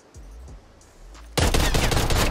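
A tactical rifle in Call of Duty Black Ops Cold War fires a dense, loud rapid string of shots after a few quiet handling clicks and thumps.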